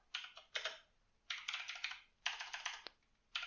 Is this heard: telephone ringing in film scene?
no